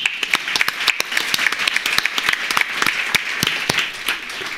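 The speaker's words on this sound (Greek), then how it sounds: "Θέλει χειροκρότημα." Applause from an audience at a talk, a dense run of sharp claps, fairly loud and steady, tapering slightly toward the end, with no voices over it.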